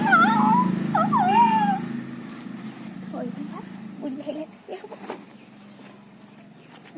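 A cat meows loudly and close in a few drawn-out, wavering cries at the start, followed by someone talking and household noises.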